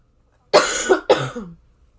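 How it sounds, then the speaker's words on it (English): Two harsh coughs in quick succession, close and loud, with a short gap between them and silence before and after. "Oh my god, why am I coughing?"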